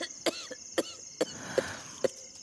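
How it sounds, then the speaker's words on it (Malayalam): A persistent dry cough repeats five times in short, evenly spaced bursts roughly half a second apart, close and fairly quiet in an indoor room with no talking. "ചുമ നിൽക്കാത്തത്"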